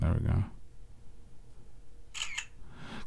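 Shutter click from an Ulefone Armor 27T Pro rugged phone camera, two quick sharp clicks near the end, preceded by a burst of talk and handling noise.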